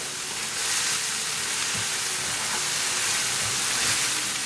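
Spices (cumin, coriander, turmeric, garam masala) frying in a tadka for a French beans and chickpeas sabzi give off a steady, fairly loud hissing sizzle throughout, with no talking.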